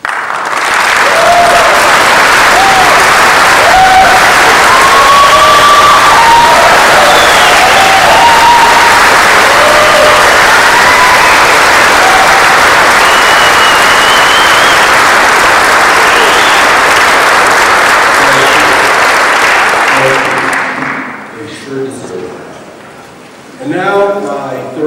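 Sustained, loud applause fills a commencement ceremony hall as the audience stands to honor staff and faculty, with scattered whoops and voices rising above it before the clapping fades out near the end.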